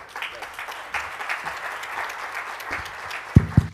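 Audience applause at a CADE 2017 business conference hall, a steady wash of many hands clapping for several seconds, fairly close, ending with a couple of loud sharp thumps near the microphone.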